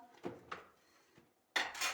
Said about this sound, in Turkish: bulaşıklarımı yıkayayım